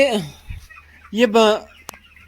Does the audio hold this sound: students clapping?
no